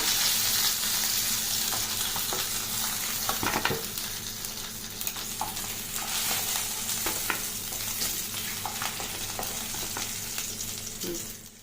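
Steady, dense sizzling of fish frying in hot oil, with crackles and pops throughout, close and fairly loud, no voices.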